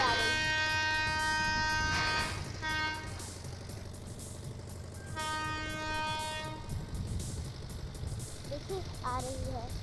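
A freight train approaches along a railway siding at a Ganga bridge construction site. Its horn sounds loudly in long blasts over a low rolling rumble of wheels and wagons, and someone talks in the background.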